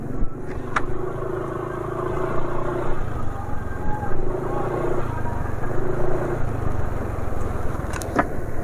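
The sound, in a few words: engine running after Mesran Super 20W50 oil change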